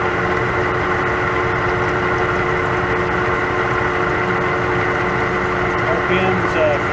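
A metal lathe turns a rusty workpiece with a steady, droning mechanical hum throughout, holding an even tone at moderate loudness.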